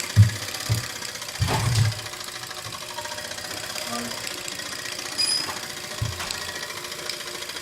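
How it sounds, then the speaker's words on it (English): Small Mamod TE1A model steam tractor running, giving a quiet rapid chuffing and ticking beat with a few louder low thumps near the start and middle, heard close up. "The steam tractor is now running, and it's just looking brilliant."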